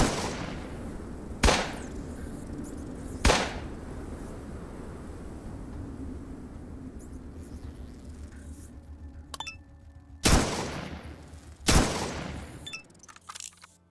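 Four sharp gunshots crack out in the post-apocalyptic game Atom RPG, two in the first few seconds and two more near the end, each a sudden loud burst over a low, quiet background hum.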